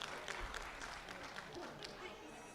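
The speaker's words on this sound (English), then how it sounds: "So let's give him another round of applause." Audience at a college commencement ceremony applauds, a faint, continuous wash of many hands clapping at a distance with no distinct individual claps.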